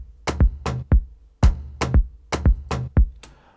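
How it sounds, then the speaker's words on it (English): Afro house drum loop built in FL Studio: punchy kicks and snappy hits in a steady syncopated pattern, dry and close, with no other instruments or voices. "Here we are, these are the drums, and they sound like this."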